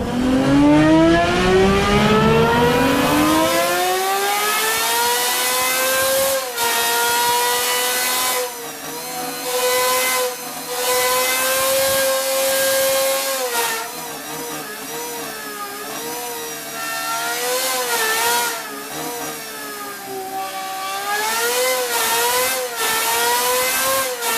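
A naturally aspirated V12 engine revs up loudly and close by, climbing in pitch over the first few seconds, then holding high revs with repeated surges and dips in a continuous, unbroken howl. No one speaks over it.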